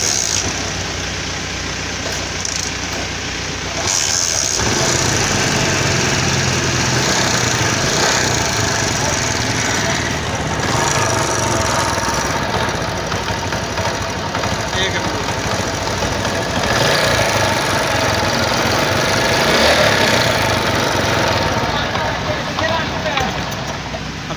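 A CD 70 motorcycle engine idles steadily and close by after a silencer repair, a rough continuous rumble for a long stretch with a few clanks and a voice talking over it.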